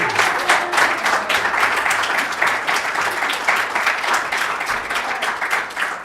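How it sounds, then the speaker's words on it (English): An audience at a church service gives the choir a warm, steady round of applause, dense clapping from many hands that holds evenly throughout. "let's have another round of applause for the choir"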